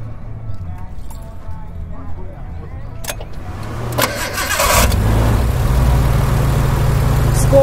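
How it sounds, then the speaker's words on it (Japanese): A Nissan F31 Leopard with an RB engine and six individual throttles cranks over with a starter whir and fires up, then settles into a loud, steady idle at an outdoor classic car meeting, with people talking nearby. "ちょっとエンジンかけていただいてよろしいでしょうか"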